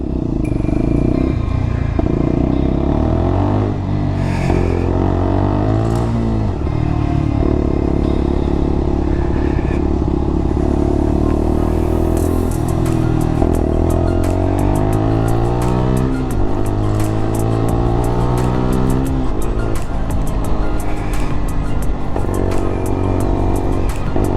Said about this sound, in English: The wind is mad.